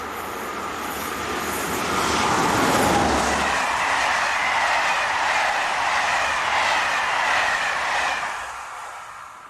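French locomotive 7285 hauls a passenger train through the countryside, a steady rumble and rushing roar swelling as it passes close by, holding loud for several seconds, then fading away as it recedes.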